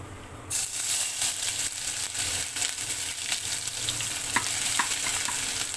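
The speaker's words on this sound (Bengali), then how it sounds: "আদাটাকে একটু লাল লাল করে ভেজে নেব।" Ginger sizzles steadily in hot oil over tempering spices for a vegetarian dal, a continuous close crackling fry with light stirring scrapes throughout.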